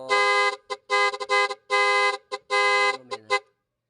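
Musical horn newly installed on a vehicle, blaring a sequence of loud, close, sustained tooted notes in a rhythmic pattern with short staccato blasts between longer tones, then cutting off.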